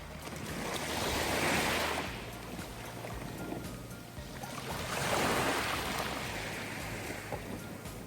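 Ocean surf at Motobu beach in Okinawa, Japan, with two broad swells of waves washing in and receding, steady wind rumble across the microphone throughout and no voices.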